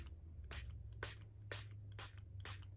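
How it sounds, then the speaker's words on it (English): Five quick hissing sprays of water from a spray bottle, evenly spaced about half a second apart, over a low steady hum. "I'm gonna spray some more water on here"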